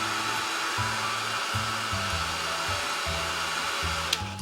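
A hair dryer blows a steady, loud whoosh to dry watercolor paint on a journal cover page, its motor note dipping and rising rhythmically as it is moved, with no talking.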